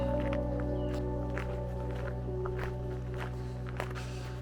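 Footsteps crunch in an irregular walking rhythm along a trail on an old railway track bed near the Glinščica valley by Trieste, over a steady low background hum.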